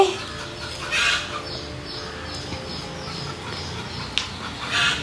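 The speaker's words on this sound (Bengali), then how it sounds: "আমাদের মুরগিগুলো খুবই দুষ্ট" Chickens cluck softly in short bursts, with a few sharper squawks over a quiet outdoor background.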